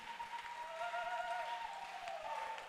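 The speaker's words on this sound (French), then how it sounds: "Applaudissons pour Jésus." Steady clapping from a congregation at a church prayer seminar, held at a fairly low, even level for a few seconds with a faint tonal musical hum underneath.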